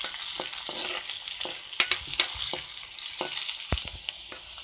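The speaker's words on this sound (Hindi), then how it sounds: "अब इसमें हम प्याज डालते हैं" Onions frying in hot oil for a tempering in a pot of potatoes: a steady loud sizzle with spoon-stirring scrapes and a few sharp clinks, close by and without speech.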